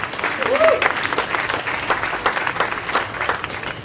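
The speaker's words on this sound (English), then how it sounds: "can we have a big round of applause for Ryan talking about Khmer writing workshops?" An audience at a nerd night talk applauds the speaker, a dense, lively wash of clapping with some vocal sounds mixed in, steady and close throughout.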